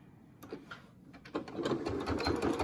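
A sewing machine stitches a fabric mask in quick, rattling bursts that start soft and then run steadily, close and fairly quiet, with no talking.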